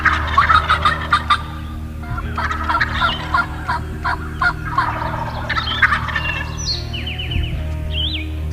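Wild Eastern turkeys gobbling in the open, repeated loud rattling gobbles from several birds overlapping in bursts, some near and some farther off, with lighter chirps and calls mixed in.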